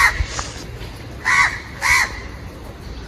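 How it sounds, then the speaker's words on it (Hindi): Crows caw in a garden on a breezy day in India, a few harsh calls spaced apart at moderate distance, with no talk over them. "कौवे"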